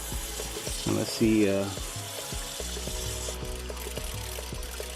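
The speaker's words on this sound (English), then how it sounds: "you can hear the water is coming out and it's filling up" Water streams steadily into a tank through a float valve with a constant hiss and trickle, while a person speaks briefly near the start.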